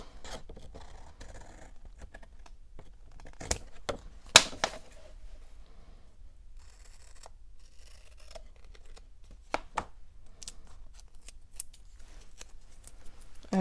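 Scissors trimming during a makeover, quick crisp snips arriving in irregular bursts with small scratchy handling noises between them, close and fairly quiet, with no talking.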